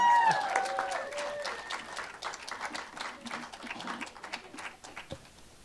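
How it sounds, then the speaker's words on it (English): Scattered audience clapping during a Sunday church service as a singer is welcomed, opening with a brief high whistle-like tone, then fading to softer, uneven claps with faint crowd murmur. "Let's give a round of applause for Mike Bolz."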